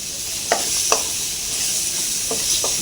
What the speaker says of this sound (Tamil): அது மசாலாவும் மசாலா போட்டு அதுவும் வதங்கணும்